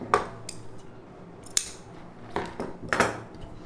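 Scissors cutting silk saree blouse fabric for a boat neck blouse, a few crisp snips with metallic clicks spaced irregularly, close and fairly quiet against a low background hum.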